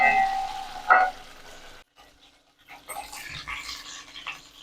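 Chicken 65 pieces frying in hot oil, a soft crackling hiss that drops out briefly midway and returns, with a brief high whine near the start.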